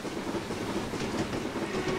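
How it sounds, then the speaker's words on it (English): Steady rumbling run of an LMS Black 5 steam locomotive on a snowy branch line in Train Simulator 2016, a continuous close rolling clatter of wheels and carriages with no voices. "Beautiful, beautiful locomotive. You cannot beat a Black 5."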